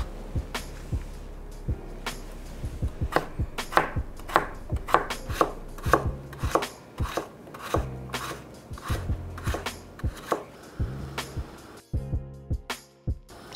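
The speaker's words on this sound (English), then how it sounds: "we're gonna go ahead and dice them up nice and small" A knife dicing potatoes on a cutting board for empanada filling, a long series of crisp, close chops in an uneven rhythm, some in quick bursts, with no talking.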